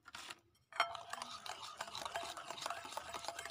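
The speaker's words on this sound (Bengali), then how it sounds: "তেল দিয়ে ভালো করে এভাবে ফেটিয়ে নিতে হবে" Oil being whisked into a melted sugar mixture for flower pitha batter, a steady scraping, stirring rhythm close up that starts after a brief quiet moment and continues throughout.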